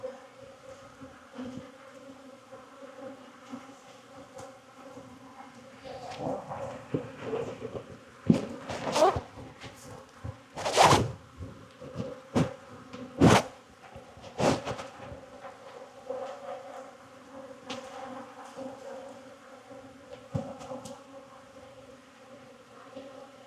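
Honey bees buzz steadily around an opened hive in an apiary in Jacksonville, Florida, during an October mite check, a close droning hum with louder passes as individual bees fly near, plus occasional handling knocks.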